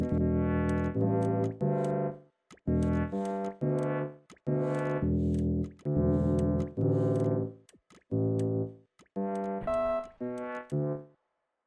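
A laser guitar built in the Scrap Mechanic video game plays a melody of clean, sustained synthetic notes, each held briefly with short gaps between them, alone and loud.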